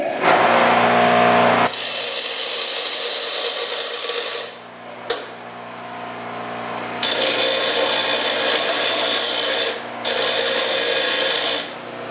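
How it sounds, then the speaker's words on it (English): Power grinder working the edges of a front bumper lens on a 1976 Mazda RX, loud sustained bursts of grinding with brief pauses between passes, no talking. "It looks like all I have to do is grind these edges to line it up."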